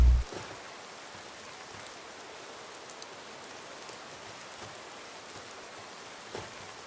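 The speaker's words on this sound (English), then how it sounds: "This is very rainy." Steady rain falls in the video game Gothic 2, a dense, even hiss of drops that runs unbroken throughout, with a brief louder patch at the very start and no voices.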